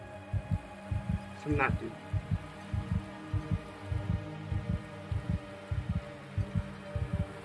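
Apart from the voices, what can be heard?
fast heartbeat sound effect in a video game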